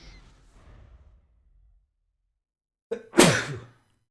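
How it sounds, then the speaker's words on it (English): One hard, forceful human sneeze bursts out after a short inhale, loud and close. Faint muffled noise comes before it, then near silence. "Got some pretty powerful sneezes today."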